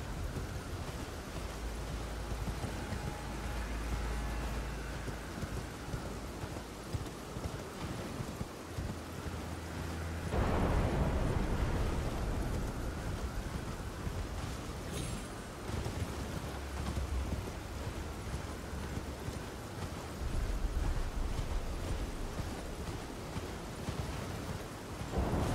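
Distant explosions rumbling in the background of the video game Elden Ring, a steady deep roar with a swell of louder low booming partway through, continuous and ominous, with no talk.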